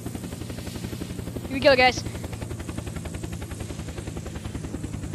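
Helicopter flying in the video game Unturned, a steady rhythmic rotor chop running throughout with a brief burst of sharper noise midway, while someone talks over it.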